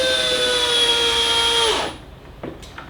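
A cordless power drill drives a screw into a wooden cutlery tray for a custom 4WD drawer built with a Kreg 720 pocket-hole jig, whining steadily and loudly for nearly two seconds before stopping, followed by a few faint clicks.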